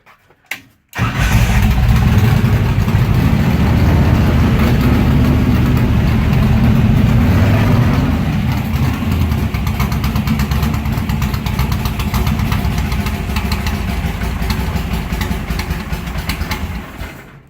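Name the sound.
car engine with mechanical fuel injection starting and running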